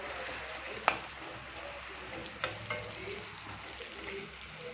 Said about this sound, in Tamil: ஆனியன் நல்லா வதங்கி வருது